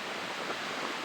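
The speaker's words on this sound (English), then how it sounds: "the water just gushing out" Water gushes out of glacier caves in New Zealand as a brief, steady broadband rush with no voices over it.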